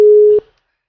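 A telephone tone heard when dialling an unavailable, out-of-service number: one steady loud beep lasting about 0.4 seconds, then cutting off into silence.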